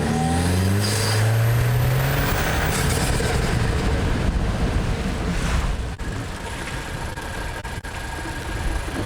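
Toyota Tacoma truck on 37-inch tires driving through water, a loud continuous engine roar with heavy broadband splashing and rushing that stays dense throughout.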